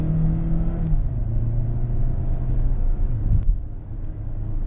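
2020 Hyundai Santa Fe engine revving around 3,000 RPM under acceleration, a steady low drone that shifts pitch and drops off near the end, heard from inside the cabin with no talk.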